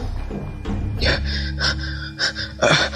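A man panting heavily after running until exhausted, sitting on stairs; a few sharp, close gasping breaths with breathy, uneven rhythm.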